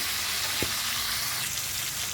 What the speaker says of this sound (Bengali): একদিকটা ভাজা হয়ে গেছে, সেম প্রসেসে আমি দুদিকটাই ভেজে নেব ভালো করে